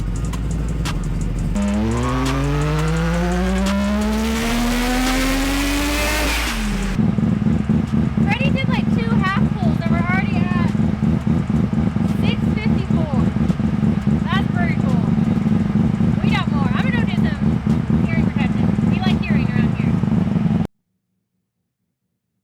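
A three-rotor Mazda RX7 rotary engine revs hard on a dyno, rising in pitch through a long sweep, then holding a loud buzzing drone with crackles and chirps from the wastegate before cutting off abruptly.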